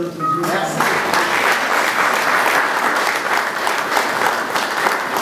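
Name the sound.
congregation applauding to acclaim the Lord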